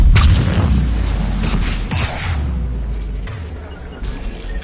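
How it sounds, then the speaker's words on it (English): Anti-aircraft guns pound away in Mass Effect 3, heavy booming blasts and crashing impacts rolling over a loud low rumble, with bursts clustering at the start and again near the end. "AA guns ahead of us."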